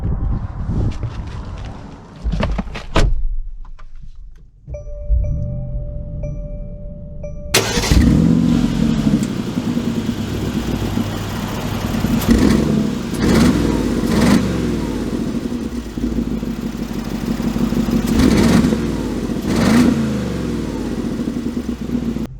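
A 2022 Mercedes G550 G-Wagon engine starts after a few clunks and a brief chime, then settles into a loud rumble with repeated revs and pulls as the SUV sets off.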